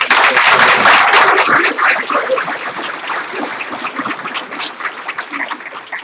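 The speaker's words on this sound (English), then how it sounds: "Let's give them one more round of applause" An audience at a school board meeting gives a loud round of applause that starts strong, then tapers into scattered claps and a few whoops.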